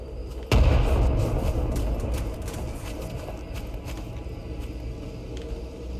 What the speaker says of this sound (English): Let's just grenade this guy out